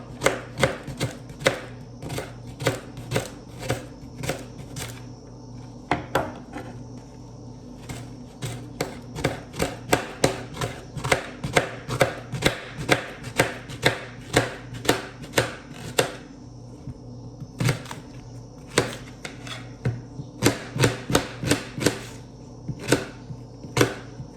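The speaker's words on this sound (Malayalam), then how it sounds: "സവാള അതിനായിട്ടുള്ളത് കട്ട് ചെയ്യണം" A knife chops onions on a cutting board in quick, sharp strokes, dozens of close, crisp knocks in uneven bursts with short pauses, no voices.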